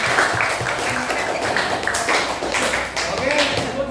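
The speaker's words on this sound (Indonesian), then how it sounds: "Beri tepuk tangan." A class claps for a student group during a classroom counseling lesson, a dense, steady patter of hands sustained for a few seconds with some voices mixed in.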